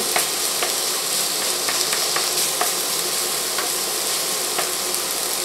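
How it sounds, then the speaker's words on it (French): Onion fries in hot oil with a dense, even hiss that holds steady throughout, and a few faint light clicks rise from the pan now and then. "Une fois que notre huile est bien chaude, on va y rajouter les oignons dans un premier temps"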